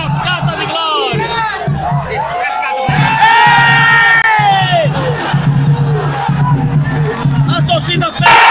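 Football supporters in a stadium during Confiança versus América, a loud roaring crowd with wavering shouted chants and whoops rising and falling, close and continuous, with brief gaps in the low rumble.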